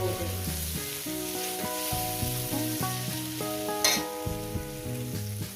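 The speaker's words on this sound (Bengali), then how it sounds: "এবার আমি শুধু এটা ভাজা ভাজবো" Pumpkin and bitter gourd slices frying in a pan give a continuous soft sizzle and hiss, mostly buried under a loud melodic music track, with a brief brighter burst near the end.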